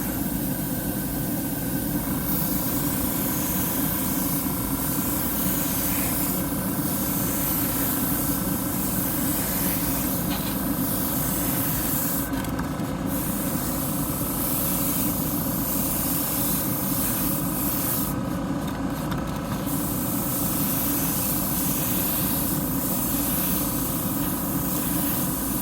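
Airbrush spraying paint onto a fan cap in a steady, continuous hiss with a low compressor drone underneath, running unbroken for the whole stretch with a couple of brief higher bursts.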